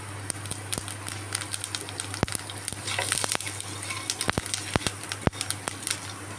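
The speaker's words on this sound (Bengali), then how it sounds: "তেল গরম হয়ে যাওয়ার পর ওই তেলে আমি কালো জিরে ফোড়ন দিয়ে দিচ্ছি।" Black cumin seeds temper in hot mustard oil, crackling with sharp irregular pops over a continuous sizzle and a low steady hum.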